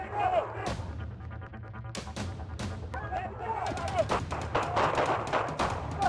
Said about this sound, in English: A fierce volley of gunfire erupted at the scene.